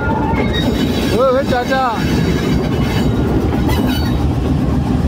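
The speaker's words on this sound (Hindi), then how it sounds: "ये देखो भाई, एक और ट्रेन आ रही है भाई" A train rolls into Karachi Cantt station, its wheels clattering and squealing loudly and close, with rumbling rail noise throughout while people talk over it.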